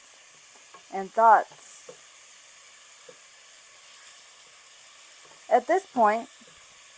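Onions and tomatoes sauté in a pan for a Mexican weeknight meal, a steady soft sizzle running beneath a voice that speaks in two short bursts.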